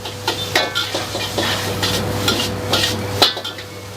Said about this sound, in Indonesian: Lu goreng sosis deh